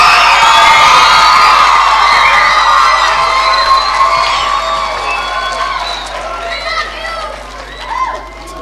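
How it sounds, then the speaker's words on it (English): Audience applause and cheering at a school speech day, loud sustained clapping with shouts and whoops that slowly fade toward the end. "Can we please give them a round of applause one more time?"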